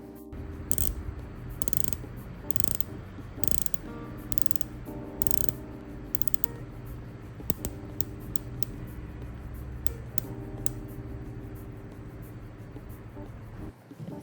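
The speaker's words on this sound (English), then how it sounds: "a steel unidirectional rotatable bezel with disc in matte burgundy anodized aluminum" Up close, the steel unidirectional bezel of a Tudor Black Bay dive watch with a matte burgundy anodized aluminum insert is turned, giving a series of crisp, quiet ratcheting clicks in short bursts.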